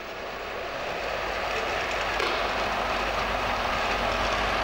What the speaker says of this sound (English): As this train departs